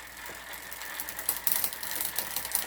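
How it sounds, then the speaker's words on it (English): A bicycle rear derailleur makes steady ratcheting, ticking chain noise as the pedals keep turning during adjustment, with a few sharper clicks along the way. "now I'm going to keep pedaling, and I'm going to tighten it some more until it starts making noise again"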